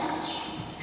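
Horse hooves clop steadily on the ground during training work, faint and blended into a wash of broad background noise with no clear voices.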